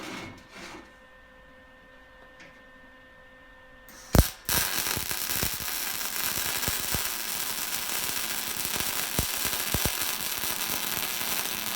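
MIG-style electric welder running a bead on a steel welder-cart frame in a shop, a steady loud crackling hiss with sharp pops starting abruptly after a few seconds of quiet mechanical clicking and continuing throughout.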